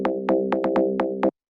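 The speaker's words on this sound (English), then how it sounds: "so just kind of like a plucky sort of FM bass" A plucky FM bass built from two sine waves in Ableton's Operator chugs through a quick run of short, evenly spaced notes for a driving techno track, clear and alone before stopping dead.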